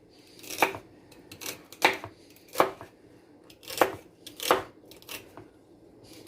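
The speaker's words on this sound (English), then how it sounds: "Cut off these ends." A chef knife chops vegetables on a cutting board while mise en place is prepared for chicken noodle soup: about six crisp, separate cuts, close and fairly loud, spaced irregularly and heard alone.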